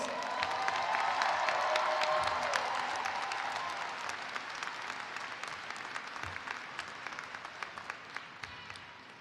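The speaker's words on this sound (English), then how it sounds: "Everyone give them a round of applause." A high school graduation audience applauds the class of 2021, the clapping and cheering loud at first and then thinning into scattered claps as it fades.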